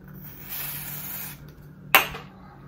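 A spray can hisses in a short burst, pauses, then gives a sharp quick spurt, close up in an otherwise quiet room.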